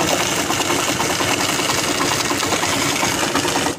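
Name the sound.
Honda Hornet 160 motorcycle engine running with a faulty sound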